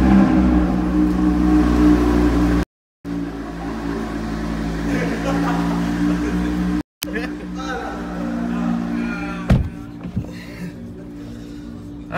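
A car engine idles with a steady low hum, then revs and pulls away as the pitch shifts, with brief cuts in the recording.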